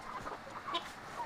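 Chickens cluck softly and intermittently in a short burst, a few scattered calls close by with no talk over them.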